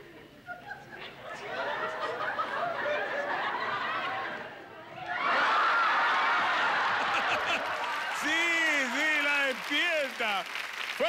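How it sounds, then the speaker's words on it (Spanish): Clapping from a television game show studio audience for the day's winner, mixed with chatter and bits of laughter, swelling louder midway while a host's voice speaks over the crowd. "Fuerte el aplauso para Silvia, que ha sido la ganadora hoy día."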